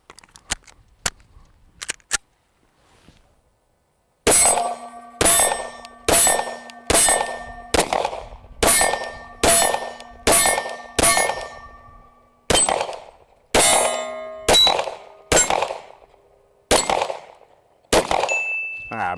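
Springfield Armory XD-M 10mm OSP pistol fired outdoors at a steel target, with a few faint early pops followed by a series of sharp, loud shots with ringing metallic clangs at a steady pace, one roughly every second.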